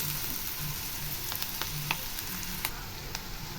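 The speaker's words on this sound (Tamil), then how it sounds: "வெங்காயம் நல்லா வதங்கிடுச்சுங்க." Onions sautéing in oil in a pan for a brinjal, raw mango and drumstick stir-fry, a close, even crackling sizzle with occasional sharp pops and faint stirring, no voices.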